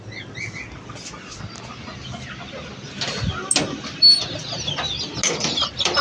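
Chickens cluck and squawk close by on a rooftop over a low outdoor background, with scattered rustling and a few sharper calls toward the end.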